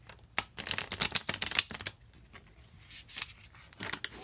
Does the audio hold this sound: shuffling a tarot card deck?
yes